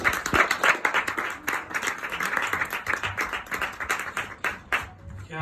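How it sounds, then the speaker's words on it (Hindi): An audience at a live performance in Goregaon, Mumbai applauds steadily for several seconds, dense overlapping claps that taper off at the end. "जोरदार तालियां गाइस।"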